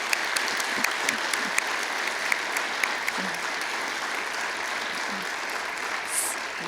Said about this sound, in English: one more round of applause for Jerry